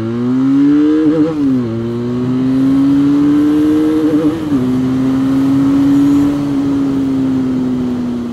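A Benelli 502C motorcycle accelerates hard, its engine note climbing loudly and close, then briefly dropping at each gear change before rising again.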